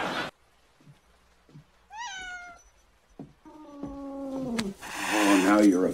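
A cat meows several times with rising and falling cries, ending in a drawn-out caterwaul, close and clear between quiet gaps and soft knocks, with a person talking.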